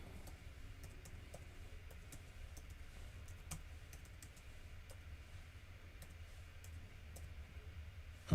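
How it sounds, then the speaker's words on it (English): One-handed typing on a computer keyboard: a quiet, steady run of light key clicks and taps over a low background hum, with a few sharper keystrokes standing out. "I'm typing with one hand."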